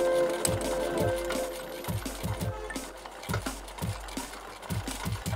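A sewing machine stitches a seam on a small crocheted or fabric doily, producing soft, irregular rhythmic clicks and thumps at moderate pace, fairly quiet and close.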